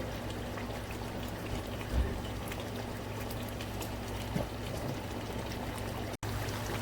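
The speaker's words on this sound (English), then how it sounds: "That's my breadfruit frying." Breadfruit fries in a pan of oil with a steady, soft sizzle and crackle, faint spatters popping now and then and one brief thump near the end, close by and without talk.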